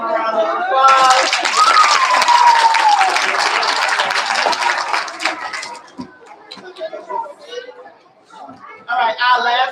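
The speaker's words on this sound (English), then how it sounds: "Can we give them a round of applause?" A school audience claps and cheers for students honored at a kindergarten and first-grade awards assembly: a loud, dense burst of applause for several seconds that fades into scattered chatter, with an adult speaking before and after.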